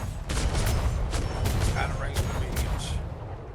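Starboard broadside from naval cannons in a Royal Navy roleplay video game: a rapid string of heavy booming shots rolls over a constant loud rumble, with a voice briefly heard in the mix.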